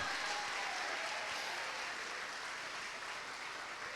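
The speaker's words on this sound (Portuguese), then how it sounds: "Amém, pode aplaudir o Senhor." Sustained applause from a church congregation during a sermon, a dense steady clapping that fills the whole stretch at an even level.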